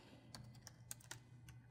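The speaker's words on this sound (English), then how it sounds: "If I start typing," Several keys are tapped on a computer keyboard in a quiet room, a short uneven run of soft, crisp clicks heard alone at low volume.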